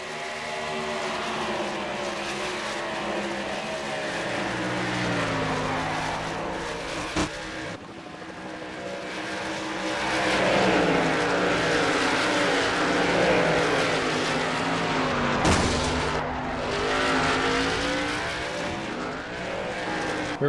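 Stock cars roaring around a track in NASCAR Racing 2003 with the 2008 Car of Tomorrow set, a continuous loud engine drone with rising and falling pitch as the cars take the green flag on a restart, one brief sharp break midway.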